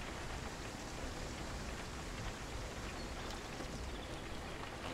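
Steady rain falls through a forest in the video game Vigor, a dense even hiss of drops on surfaces continuing without pause, fairly soft and with no voices.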